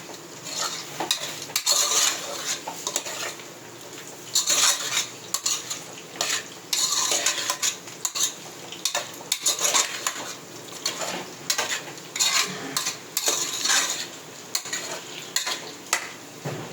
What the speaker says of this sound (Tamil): இப்போ வந்து இதை வந்து தண்ணி விடுற அளவுக்கு வதக்கிக்கலாம் இந்த சிக்கனை